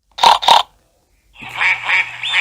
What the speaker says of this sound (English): There are some ducklings stuck on our roof